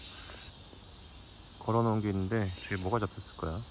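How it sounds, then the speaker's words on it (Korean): Cicadas sing in summer beside the Soyang River in Chuncheon as a faint, steady high buzz in the background, soon joined by someone talking over it. "지금 매미 소리 들리시나요?"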